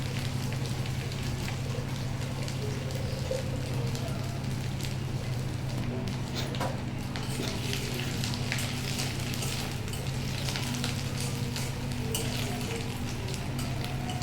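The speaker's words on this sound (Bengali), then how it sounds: "এরপরে আদাটাকে একটু লাল লাল করে ভাজবো" Crushed ginger fries in a pan with a constant dense crackling sizzle, close and even throughout, over a low steady hum.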